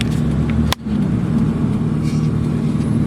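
Car creeping through heavy traffic in Eastwood, heard from inside the cabin: a steady low engine and road rumble with one brief sharp knock partway through, no talking.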